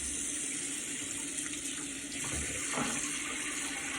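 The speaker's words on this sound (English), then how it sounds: "Wet the face, some hot water." Hot water runs steadily from a sink tap before a shave, with a continuous near hiss and splash and brief shifts as hands cup water to wet the face.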